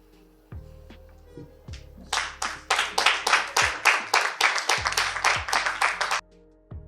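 A run of about fifteen loud, evenly spaced hand claps from a group of people, coming after a few scattered thumps and fading out abruptly near the end.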